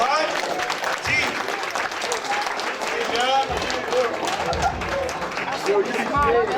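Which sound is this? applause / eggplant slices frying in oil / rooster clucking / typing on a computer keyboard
applause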